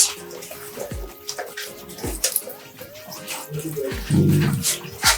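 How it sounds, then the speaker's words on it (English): Water splashing and trickling from a drinking nipple on a grasscutter cage in Ghana, irregular bursts and a fuller gush near the end, with scattered clicks and faint background voices. "once you touch the nipple, you see that the water, there's water coming out, yes, from it"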